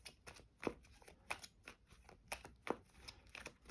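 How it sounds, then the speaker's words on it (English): Deck of cards shuffled by hand for a solo card game: a series of crisp riffling bursts and soft snaps, close and fairly quiet, repeating roughly every half second with no voices. "And then we shuffle that."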